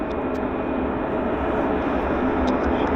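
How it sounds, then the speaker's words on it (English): Aircraft at Vancouver airport make a loud, continuous engine roar that holds steady throughout, broad and rumbling with no voices. "A lot of noise because of all the aircraft coming and going."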